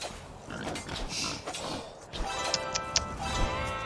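A boar in a Viking-versus-Celts strategy game grunts and squeals amid game clatter, with a few sharp ticking hits near the end, all fairly close.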